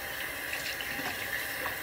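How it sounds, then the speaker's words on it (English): A sink tap runs steadily during hand washing, a soft, even hiss of flowing water with no voices. "you're gonna wash your hands"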